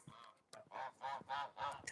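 Geese honk four times in quick succession at a backyard pond during corn feeding, close and fairly faint, with a short pause after the first call.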